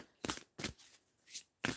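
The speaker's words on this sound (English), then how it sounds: "I'm shuffling" A deck of playing cards is shuffled in four quick riffling bursts with short pauses between them, close and fairly quiet, with no voices.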